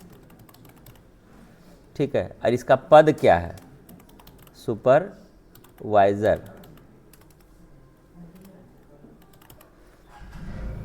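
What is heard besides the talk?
typing on a computer keyboard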